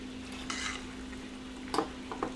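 Mozzarella cheese is stirred into a mac and cheese mixture in a bowl, with a few soft, close scraping and clinking strokes over a faint steady hum.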